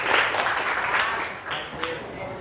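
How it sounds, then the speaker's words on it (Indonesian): A classroom of students breaks into brief applause for a classmate, a dense patter of claps that swells at the start and fades slightly, with faint voices mixed in. "Tepuk tangan untuk Iqmal"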